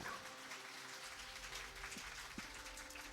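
Crowd of fans clapping at a 2022 LCK Spring Split League of Legends esports match, a steady patter of applause from a distance without any speech.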